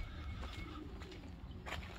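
Pigeons cooing softly at a home loft, low muffled coos in the background over faint ambient noise, brief and fairly quiet with no talking.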